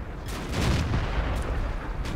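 Tank gun fire in a tank video game, a broad loud blast swelling then rumbling on for about two seconds amid battle noise.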